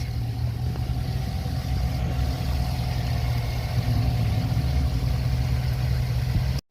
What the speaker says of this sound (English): now that the job's done, you hear the truck's running great.